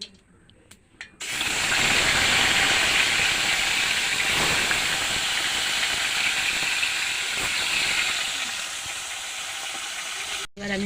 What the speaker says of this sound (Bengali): প্রথমে মাছগুলো ভেজে নেব।